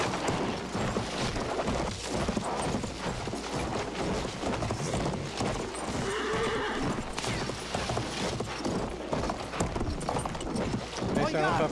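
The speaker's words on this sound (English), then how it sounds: "Gallop, horse." Rapid hoofbeats of a galloping horse in Battlefield 1 pound steadily through a busy game soundscape, with a whinny and other action noises layered over them.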